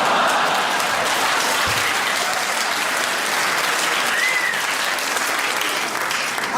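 A comedy club audience at a live stand-up show bursts into sustained, dense applause that holds steady throughout, with a faint crowd murmur underneath.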